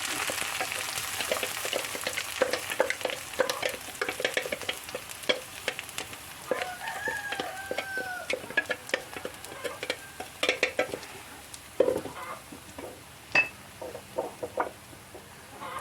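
Grated coconut stirred into jackfruit thoran in a pan, giving a steady soft sizzle with scraping spoon strokes and light clatter against the pan, close and continuous.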